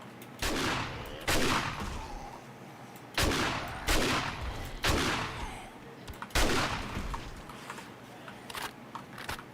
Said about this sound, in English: Point blank shotgun blast.